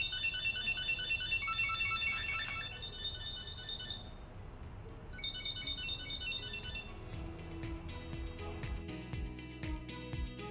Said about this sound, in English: Tap Play Sound and the card will start ringing.